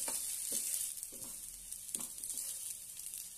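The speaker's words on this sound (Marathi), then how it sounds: "छानपैकी फ्राय करून घेऊया" Bottle gourd vadi frying in a pan, a steady bright sizzle with a few soft stirring scrapes, close and continuous with no voices.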